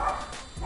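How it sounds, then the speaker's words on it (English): Dogs bark faintly in the background, a short muffled burst behind a steady low hum, with no one speaking. "I do apologize for the dogs barking in the background."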